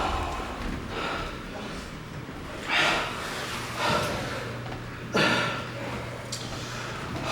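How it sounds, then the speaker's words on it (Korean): Two boxers breathe hard just after a sparring match, with loud gasping exhales and snorts in a few bursts over a noisy gym background. "두 선수 숨 고르고"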